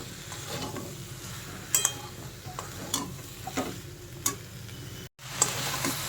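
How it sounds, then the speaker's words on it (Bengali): Raw vegetables tossed with chicken in a pan for a chicken stew, soft stirring strokes and light clinks over a low sizzle, up close with no speech and a brief drop to silence near the end. "এবার সবজিগুলো একটুখানি নাড়াচাড়া করে নিই"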